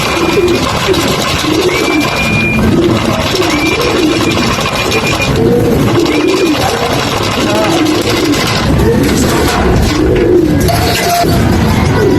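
Racing pigeons coo in a steady, repeated rhythm close by as birds arrive after a long race from Pio Duran, Albay to Novaliches, with chirps, a faint engine hum and brief talk in the background.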